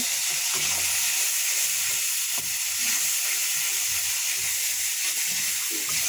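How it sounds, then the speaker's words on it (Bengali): Spices with chili powder and garam masala sauté in a pan for a fish and potato curry, a steady loud frying hiss that runs on without pause. "ভালো করে আমি এখন মশলাটা কষিয়ে নেব"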